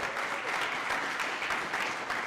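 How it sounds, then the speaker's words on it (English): An audience bursts into sustained applause at a live company event, a dense wash of many hands clapping that holds steady throughout without speech on top. "a round of applause for that"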